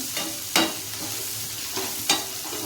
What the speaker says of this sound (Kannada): ಈಗ ನಾನೊಂದು ಉಳ್ಳಾಗಡ್ಡಿ ಮತ್ತು ಬೆಳ್ಳುಳ್ಳಿನ ಎರಡನ್ನೂ ಸೇರಿಸಿ ಫ್ರೈ ಮಾಡಕತ್ತೀನಿ